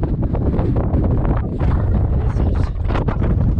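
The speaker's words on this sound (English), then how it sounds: "Definitely have some wind coming in." Gusty mountain wind buffets the microphone in a steady, loud roar on the descent of Cotopaxi volcano in Ecuador, near the crampon removal spot in the early morning, with a couple of spoken words briefly over it.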